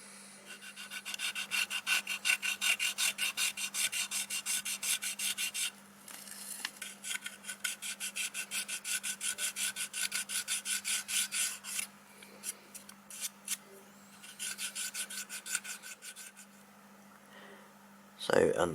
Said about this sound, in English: So underside of the body shell has now been filed, all the edges, all the sides, and also around the bogie as well.